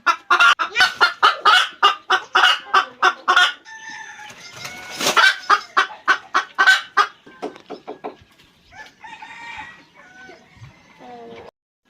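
Hens clucking on a hillside village farm in Thailand, a long run of loud, rapid, rhythmic clucks and cackles from birds close by, easing to softer calls near the end.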